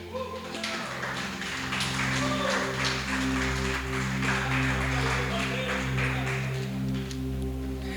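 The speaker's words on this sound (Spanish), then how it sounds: "Den un fuerte aplauso al Espíritu Santo" A church congregation gives a loud, sustained round of applause, dense clapping swelling after a brief start and holding steady under a low hum.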